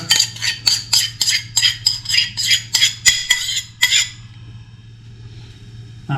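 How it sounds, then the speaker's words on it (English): Granola ingredients stirred briskly in a bowl with a spoon, giving a rapid run of about a dozen close, bright scraping clinks that stop abruptly, leaving a low steady hum. "just give that a quick mix in the bowl so that combines"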